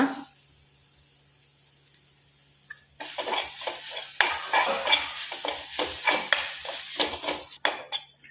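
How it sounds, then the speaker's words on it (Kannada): Grated coconut frying in a spoonful of ghee in a pan, starting quiet and turning into loud crackling sizzle with repeated scraping and stirring strokes of a spatula, close up with no talk. "ಒಂದು ಬಾಣಲಿಗೆ ಒಂದು ಸ್ಪೂನಷ್ಟು ತುಪ್ಪ ಒಂದು ಅರ್ಧ ಕಪ್ಪಷ್ಟು ತೆಂಗಿನ ತುರಿ ಹಾಕಿ ಒಳ್ಳೆ ಫ್ರೈ ಮಾಡುವ"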